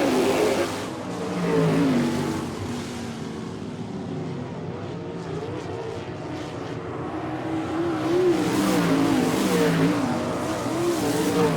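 Sprint cars racing on a dirt oval at Port Royal, Pennsylvania, a pack of engines roaring loud and continuous, swelling and fading as the cars sweep past into the turns, with no talk over the noise.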